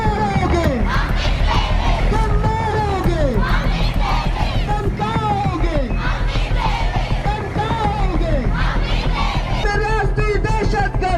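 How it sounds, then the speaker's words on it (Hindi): Women protesters in Khuzdar, Balochistan, chant and shout together in a loud outdoor crowd, with repeated rising and falling slogans carried by many voices. "बलूचिस्तान में महिलाओं ने प्रदर्शन किया, उन्होंने अपनी आवाज बुलंद की है"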